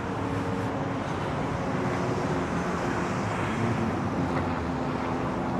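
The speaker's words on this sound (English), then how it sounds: "I hear helicopters." Helicopter passing over a Manhattan street in New York City, a steady broad rotor-and-engine drone heard continuously from a distance, blended with constant city traffic rumble, no talking.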